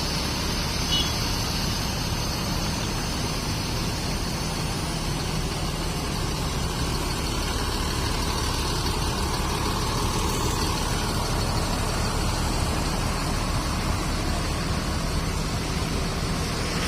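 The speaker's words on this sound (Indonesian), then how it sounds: "Bis ini memakai sasis Mercedes-Benz OH 1626" A Mercedes-Benz OH 1626 bus with Morodadi Prima bodywork idles nearby, a steady low engine rumble holding evenly throughout with faint background noise and no clear talk.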